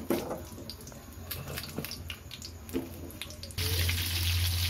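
Bitter gourd pieces cut into chunks and dropped into hot oil: quiet scattered bubbling and ticks at first, then a sudden burst of loud, steady frying sizzle near the end.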